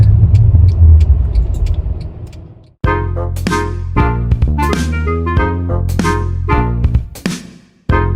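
A car on a short drive gives a low, steady interior road rumble for the first few seconds, then a hard cut leads to louder, sustained tonal sound with sharp clicks over a continuing low hum.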